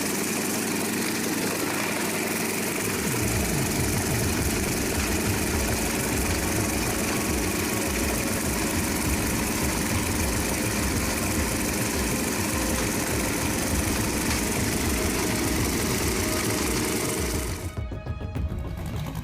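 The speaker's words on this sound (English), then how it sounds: "The piercing scream from the Rolls-Royce Dart propeller turbine mounted on the Fokker F-27" A Rolls-Royce Dart turboprop engine on a Fokker F-27 running loud and close, a continuous piercing whine with a dense buzzing roar that holds steady throughout before cutting off near the end.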